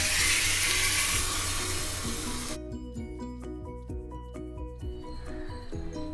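Mustard seeds, cumin and curry leaves crackle in hot ghee as a tempering for fenugreek rasam, a loud, dense sizzle for about two and a half seconds before it gives way to music.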